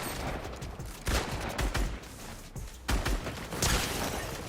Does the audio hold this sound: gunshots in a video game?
yes